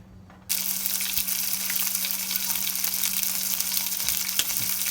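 Steak sears in hot vegetable oil in a frying pan: after a brief quiet start, a loud, steady sizzle and crackle sets in and continues to the end, with no talk.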